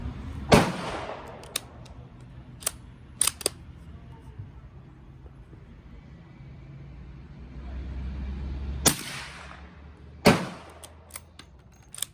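A Ruger 77/357 bolt-action rifle fires suppressed .357 Magnum rounds: several sharp, close cracks spaced seconds apart, with quieter mechanical clicks and handling noises in between.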